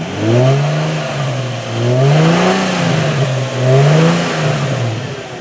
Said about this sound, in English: I'm going to rev it up just a little bit.